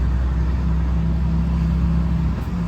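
A Hiab rigid truck with a manual 16-speed gearbox drives along, its engine giving a steady, loud low drone from inside the cab with a faint whine above it, no speech.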